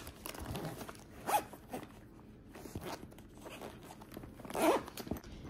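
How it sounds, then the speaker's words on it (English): Zipper on a flight attendant's small travel pouch is pulled shut close up, a couple of quick raspy zipping strokes with handling rustle between them and no talk. "Let's zip it up."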